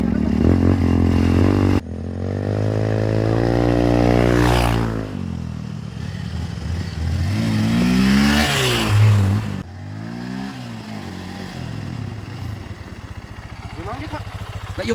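Motorcycle engine revving hard, rising and falling in pitch through several sweeps, loud and close, then settling to a rough rumble.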